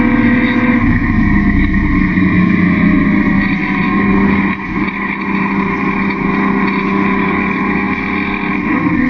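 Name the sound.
saloon racing cars accelerating down the straight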